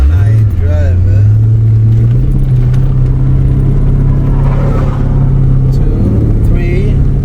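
A 2005 Pontiac GTO drives along with a steady, loud engine drone and shifts through its gears, the pitch rising and settling, while someone talks over it throughout.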